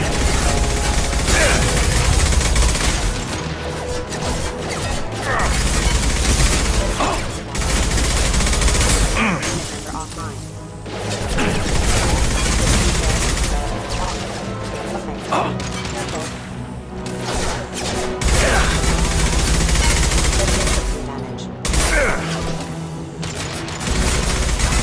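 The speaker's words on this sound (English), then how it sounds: "Firing a high-impact shot!" Sustained bursts of gunfire from a Mass Effect 2 firefight rattle and boom almost without pause, loud and close, with brief lulls between volleys and faint talk buried in the combat.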